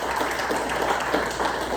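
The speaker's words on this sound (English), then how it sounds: "So please, let's do a round of applause for Jacob." An audience at a theatre talk about The Pajama Game on Cape Cod claps together in a brief, moderately loud burst of steady applause.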